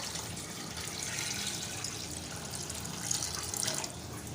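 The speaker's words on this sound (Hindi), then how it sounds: "तकरीबन 1 बाउल हम इसमें पानी ऐड कर देंगे।" About a bowl of water is poured into a chicken shami kebab mixture, giving a steady, close hiss of running water that splashes a little louder near the end, with no talk.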